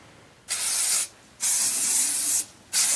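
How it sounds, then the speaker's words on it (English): Super strength hairspray hisses from an aerosol can in three close bursts, each about half a second to a second long, separated by short pauses. "the finishing touch is my super strength hairspray."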